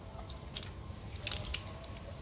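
Water splashed onto a car with a hydrophobic spray coating drips and patters faintly as it sheets off the paint, soft wet bursts close by.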